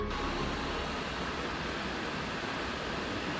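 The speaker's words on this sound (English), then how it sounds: "This is the entrance down to the waterfall." Potem Falls, a waterfall in California, heard from the entrance trail as a steady, broad rushing roar, constant and even throughout with no voices over it.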